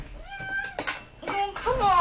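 A pet cat gives a couple of short, fairly loud meows at close range, indoors, with a person's voice coaxing nearby.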